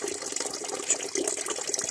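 Water splashes steadily at a trail water source along the Appalachian Trail as someone washes their face, a close, continuous gushing with no talking.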